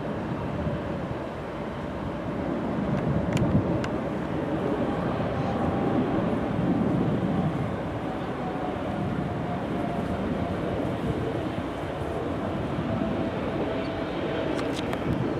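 A Boeing 777 departs Chicago O'Hare for London Heathrow, its engines a steady, broad low roar held at a distance throughout, with faint talk in the background.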